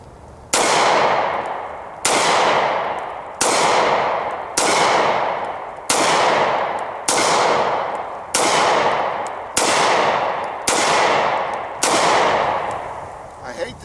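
Ten evenly spaced pistol shots from a Stoeger Cougar fired double action outdoors at about 15 yards, each a sharp loud crack with a decaying echo, roughly every 1.3 seconds, with no talking.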